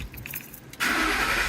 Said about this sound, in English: Start the engine one time.